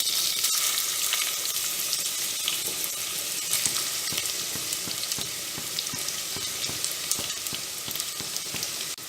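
Onions and green chillies fry in hot oil for prawn biryani, giving a loud, continuous close sizzle with faint clicks of stirring throughout.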